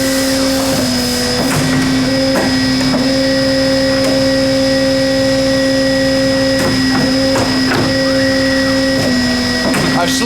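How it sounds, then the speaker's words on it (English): An automated tube bending machine cycles through its bending program, giving a loud, steady mechanical hum with sustained tonal whine and repeated clanks and thumps of the bending strokes throughout. "it will run through its cycle and bend the tubes once I programmed it"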